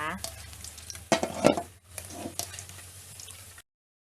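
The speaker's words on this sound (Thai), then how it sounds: "นำกระเทียมลงไปเจียวเลยค่ะ" Chopped garlic frying in hot oil in a pan for a Thai pork-crackling chili paste, a steady close sizzle broken by a few louder stirring scrapes and clatters, then cutting to silence at the end.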